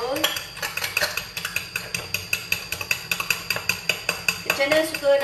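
Spring onions are stirred in a pan for nasi goreng sambal tumis petai, a steady run of close metallic scraping and clinking strokes of a spatula against the pan, roughly two or three per second.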